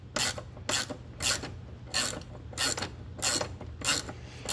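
A bolt is loosened and unscrewed by hand from a vehicle cowl mount, giving a close series of about eight quick ratcheting clicks in a steady rhythm, separated by short quiet gaps.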